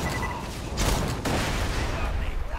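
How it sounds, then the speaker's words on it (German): A grenade tossed in the shooter game Borderlands 2 bursts into a loud blast amid ongoing gunfire and combat noise, with a sharp explosive swell near the middle of a dense battle soundscape. "So, werfen wir mal eine Granate hoch."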